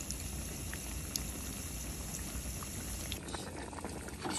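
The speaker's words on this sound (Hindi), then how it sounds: "यहाँ पर मैं आलू वाले पकोड़े बना रही हूँ" Potato pakoras sizzling in hot oil in a home kitchen, a steady dense crackle and bubbling that runs continuously at close range with no talk.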